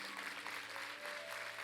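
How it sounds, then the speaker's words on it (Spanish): A church congregation claps for young volunteers during a revival service, a brief quiet patter of applause under a low hum. "denles un fuerte aplauso a los jóvenes"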